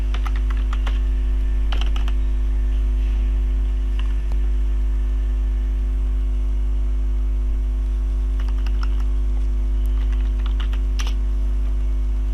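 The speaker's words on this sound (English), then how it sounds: "I'm just going to type ifconfig for my IP address." Keys clack on a computer keyboard as a network configuration command is typed, short bursts of quick taps separated by pauses over a steady low electrical hum.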